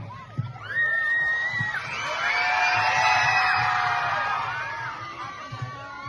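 A crowd at a college freshers' day cheers and whoops loudly, with children shouting and high-pitched screams rising and falling in a sustained roar.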